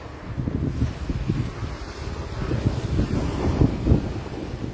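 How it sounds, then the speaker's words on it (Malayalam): Strong gusty wind blows outdoors near a home during a storm, buffeting the microphone with a steady, rumbling roar that swells and dips throughout without pause. "ഭയങ്കര കാറ്റാണ്."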